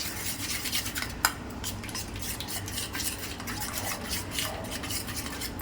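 Cream being stirred into a reshmi chicken tikka marinade in a bowl, a steady wet scraping and swishing with one sharper clink near the start, close and continuous with no talking.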